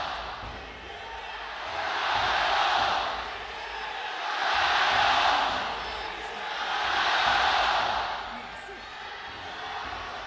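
A large esports arena crowd cheering for a team at a regional qualifier in Suzhou, swelling in three rhythmic waves of roaring chants that rise and fall, fairly distant and diffuse.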